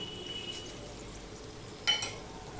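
Banana flower curry with raw peanuts, chopped green and red chillies, sugar and salt fries quietly in a pan: a faint, steady hiss with one brief clink of stirring near the end.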